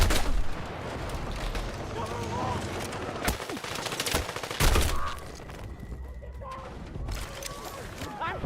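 Rockets and gunfire in a video game, a barrage of sharp rapid bursts and heavier blasts at varying distances, under a player's excited talking.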